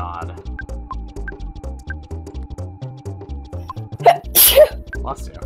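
A single sharp sneeze bursts out near the end, loud and close, over a steady bouncy video-game soundtrack from EarthBound playing underneath.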